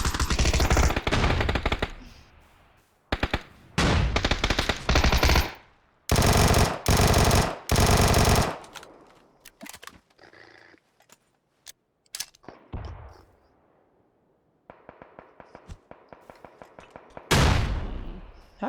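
Gunfire in the battle royale game PUBG, with long loud bursts of automatic fire and rapid single shots in clusters, broken by short pauses and quieter distant shots, and no talking.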